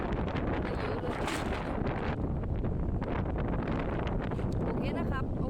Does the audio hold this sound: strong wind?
yes